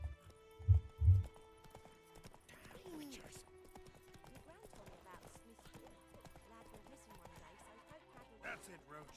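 Geralt's horse Roach trotting in a Witcher video game: two heavy hoof thumps near the start, then light clip-clop and a neigh under game music and a voice speaking.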